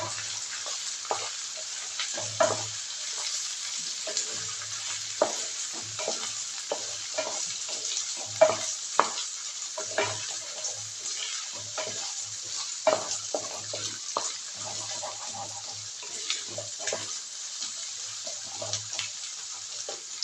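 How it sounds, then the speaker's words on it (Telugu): Steady sizzling of soya chunks frying in a pan with intermittent stirring scrapes and clatter, continuous and fairly close, no voices. "ఇవి కూడా కొంచెం వేగాలండి, దీంట్లో ఉన్న వాటర్ పోవాలా"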